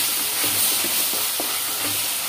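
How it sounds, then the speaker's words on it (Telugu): Onions and green chillies with ginger-garlic paste tossed and fried in a pan, giving a loud continuous sizzle and hiss with soft rhythmic scraping of stirring. "బాగా టాస్ చేసుకుందాం, బాగా తిప్పుకుందాము"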